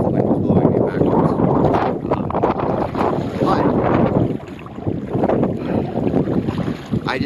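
Strong wind gusting across open water during solo kayaking, a loud continuous rumbling roar on the microphone with surging swells, and a voice talking underneath.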